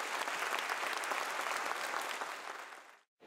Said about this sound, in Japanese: 会場からは大きな拍手が送られていました